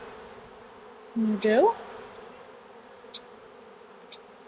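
Honey bees hum steadily around an open hive during a colony check, a close continuous drone, with a brief spoken phrase cutting in near the start.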